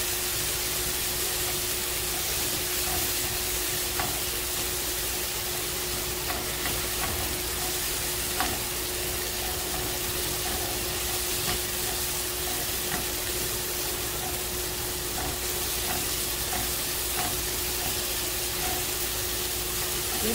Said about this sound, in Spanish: Y también le voy a revolver ya el pollo.